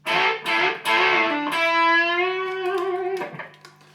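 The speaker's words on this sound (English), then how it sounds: "we've got that oblique bend 3 times" A clean electric guitar phrase with oblique bends played three times, from a guitar solo: notes bent upward, one long sustained bend held and gently sliding, then a final note released down.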